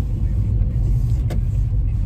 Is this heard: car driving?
yes